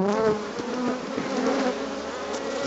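Honey bees swarm around an open hive as frames heavy with honey are inspected with a little smoke, giving a dense, steady, close buzz that stays loud throughout with no voices.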